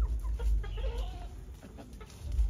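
Chickens clucking in a screened outdoor coop, several birds making soft, irregular clucks and murmurs close by over a low rustling background, with no talking.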